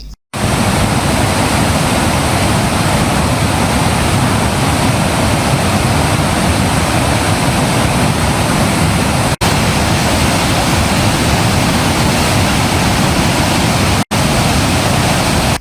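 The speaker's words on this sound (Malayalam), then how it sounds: "നാല് ഷട്ടറുകളും തുറന്ന് ജലം പുറത്തേക്ക് ഒഴുക്കി" Floodwater roars from the four open shutters of Kallar dam, a dense, loud and unbroken rushing torrent that stays steady and close for the whole stretch, with no voices over it.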